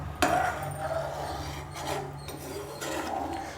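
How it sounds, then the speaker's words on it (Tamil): A pot of rice kheer made with basmati rice and milk is stirred over full heat, giving a steady scraping, rasping rub of a spoon against the pot with faint clinks, continuous and close. "ஃபுல்லாக வச்சுட்டு நல்லா கலந்து விட்டுட்டே இருங்க."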